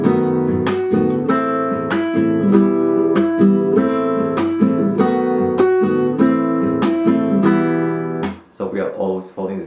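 Nylon-string guitar strummed in a 6/8 Latin American pattern mixing golpeado percussive strokes and thumb downstrokes, with steady sustained chords and regular sharp accents, played alone and fairly loud before a brief break near the end.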